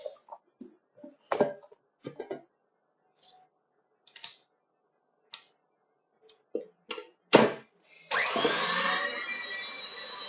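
Electric hand mixer whirring steadily into buttercream icing, starting abruptly after a run of scattered taps and clicks from bowl and utensils, continuing loud and close to the end.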